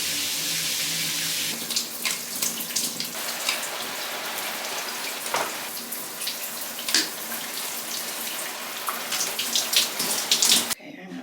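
Shower water runs in a steady hiss and patter against the floor and walls, continuous and close, with small splashing shifts, then stops abruptly at the end.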